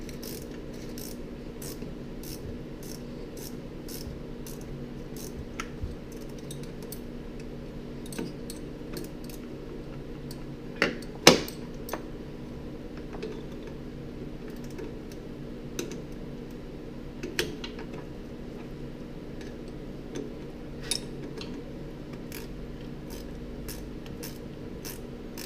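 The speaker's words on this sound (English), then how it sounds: "I changed that first wrench out for one of my ratcheting wrenches" A ratcheting wrench works a front shock bolt on a Jeep Wrangler, producing quick, faint ratchet clicks in bursts over a steady low hum, with a few louder metallic knocks.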